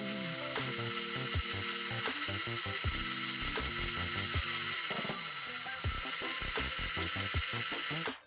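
A small hand-held drill whirs in short, stopping and starting bursts, up close, drilling a small hole in jewelry for an eye hook, its motor pitch rising and dropping with each push.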